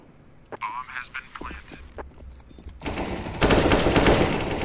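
Gunfire in the video game CS:GO, with a few scattered shots early under talk, then a dense burst of rapid automatic fire that grows louder in the final seconds.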